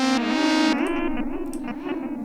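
Sustained distorted notes run through a vintage Lexicon Primetime M93 delay unit, the tone warbling and repeating with wavering echoes that slowly shift and fade, with no talking.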